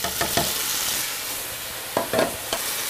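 Tomatoes tumble into a hot pot of bison and onion stew, setting off a steady loud sizzle with a few brief stirring scrapes and splashes, no voices.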